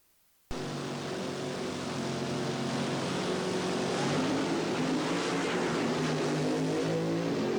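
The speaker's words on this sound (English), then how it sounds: "we'll watch the alcohol-burning dragster do the burnout" Alcohol-burning dragster doing a burnout at the 1977 Springnationals, a sudden roaring engine that snaps on and holds loud and steady, dense rasping noise with a droning pitch, no talk.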